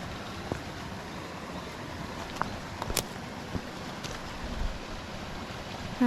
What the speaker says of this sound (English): My own little waterfall.